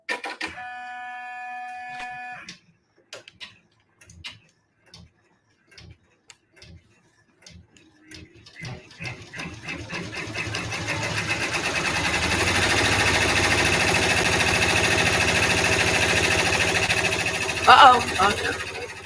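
A multi-needle embroidery machine stitches all-over background quilting on a dog-themed mug rug, starting with sparse ticking clicks that build into a steady, loud mechanical whirr and rapid needle chatter.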